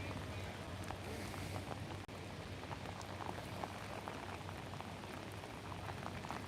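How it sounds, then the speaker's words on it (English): Heavy rain pours steadily onto a city street, a dense, even hiss of drops with a low background hum that holds throughout with no break. "It's raining heavily."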